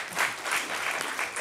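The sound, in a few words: audience applauding the speaker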